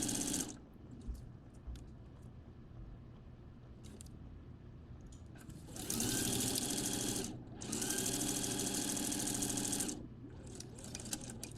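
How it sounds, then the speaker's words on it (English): A sewing machine stitches close to the edge of a pair of shorts in two loud, steady runs of rapid mechanical whirring. Quieter handling and clicks come before, between and after the runs. "I'm going to sew close to the edge, make sure nothing slips out."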